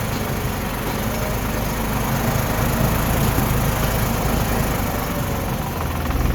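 A New Holland TD4 65 tractor with a rear loader drives along, its engine a loud, steady, continuous drone with a constant rumble close by.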